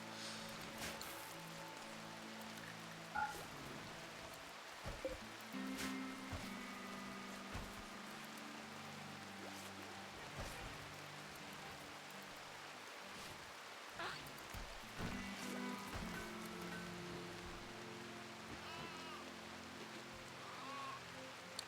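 Rain falling in the video game RimWorld, a soft, faint continuous patter with occasional small bumps, steady throughout.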